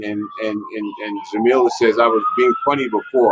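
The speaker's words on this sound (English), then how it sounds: "Excuse the sirens." Emergency vehicle sirens on a Manhattan street, a rising wail running steadily beneath someone talking close by, continuous through the whole stretch.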